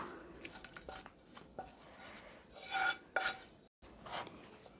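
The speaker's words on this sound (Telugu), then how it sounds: "ఇప్పుడు మనం ప్రిపేర్ చేసి పెట్టుకున్న కొబ్బరి మిశ్రమాన్ని అంతటిని ఈ రైస్లోకి వేసుకొని బాగా కలిపేసుకోవాలి." A spoon scrapes and stirs as grated coconut mixture is mixed into cooked rice in a mixing bowl, making soft, uneven rubbing sounds with a few louder scraping strokes.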